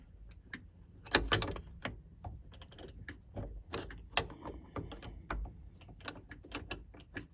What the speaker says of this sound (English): it's starting to ratchet